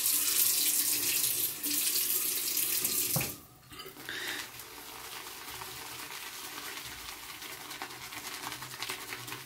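Water from a tap runs into a sink while shaving soap is lathered, a steady close hiss of flowing water that briefly cuts off and then resumes more softly.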